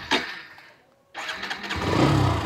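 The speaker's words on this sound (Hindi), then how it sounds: "अब यहाँ पे हम जो है वो इसे स्टार्ट करते हैं" A Hero Xtreme 125R motorcycle in neutral cranks and fires up, a brief starter burst, a pause, then the engine catching and settling into a steady, close idle.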